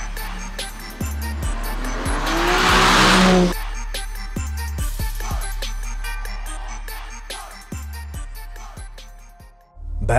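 A BMW M3 Competition driven hard lets out a loud, rising tire squeal lasting about a second and a half, surrounded by engine roar and sharp mechanical knocks.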